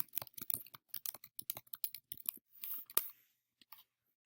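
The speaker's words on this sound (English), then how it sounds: "and I can type in a cute little message." Quick, uneven bursts of key clicks from typing a short message on a computer keyboard, fairly faint and close, pausing briefly near the end.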